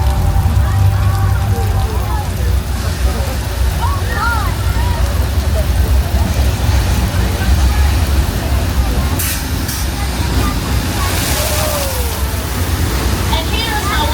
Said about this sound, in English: if you get too much rain, you end up with this weather effect